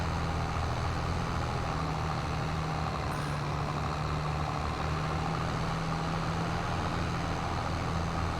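Truck with a CVT transmission in Farming Simulator 22, pulling a heavy load and accelerating with a steady, droning engine hum that holds without gear shifts, constant and close.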